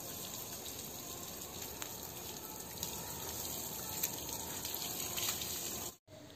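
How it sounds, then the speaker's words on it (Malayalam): Water pours steadily over an animal as it is wet down for a shampoo bath. The flow is faint and continuous, then cuts off briefly near the end. "എന്തായാലും ഒന്ന് വെള്ളം നനച്ച് ഒന്ന് കംപ്ലീറ്റ് നമുക്ക് ഷാമ്പു ഒക്കെ ഉപയോഗിച്ചിട്ടൊന്ന് കുളിപ്പിക്കാമെന്ന് വിചാരിച്ചു"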